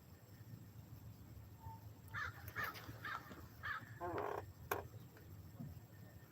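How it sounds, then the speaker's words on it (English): Several crows cawing outdoors, a series of harsh rhythmic caws at moderate distance over faint background noise, with a softer voice murmuring underneath. "Those are my crows."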